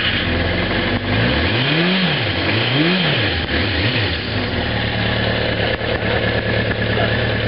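A Suzuki GS650GT motorcycle fitted with Accel Supercoils and Accel wires idles close by, a steady deep rumbling engine with a couple of brief throttle blips early on.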